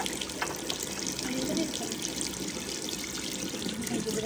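Running tap water splashing as a child rinses a toothbrush under it at a sink, a continuous close trickling and spattering stream with small bursts of splashing.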